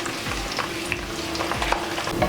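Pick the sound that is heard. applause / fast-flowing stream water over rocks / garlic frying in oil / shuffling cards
garlic frying in oil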